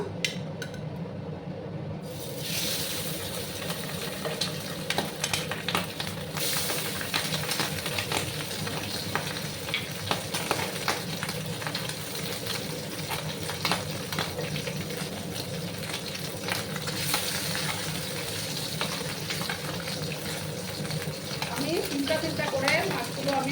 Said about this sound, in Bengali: তেলটা গরম হয়ে গেছে আমার এবার আমি একে একে মাছগুলো দেবো